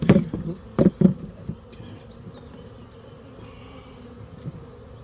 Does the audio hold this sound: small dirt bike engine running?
no